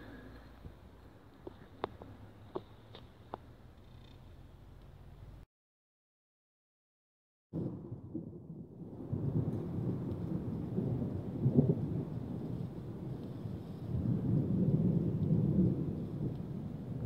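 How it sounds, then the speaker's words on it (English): Thunder rumbling during a rainstorm at an outdoor dump dig, a few sharp crackles, a short gap of silence, then sustained low rolling rumbles with steady rain. "Some thunder boomers there"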